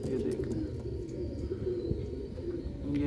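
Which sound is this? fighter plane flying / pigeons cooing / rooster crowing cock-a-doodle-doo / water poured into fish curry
pigeons cooing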